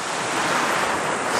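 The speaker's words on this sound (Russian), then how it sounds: "море шуршит камушками" Sea waves wash over a pebble beach at Adler, Sochi, making a continuous close rushing, rustling surf with some wind buffeting the microphone. No one speaks.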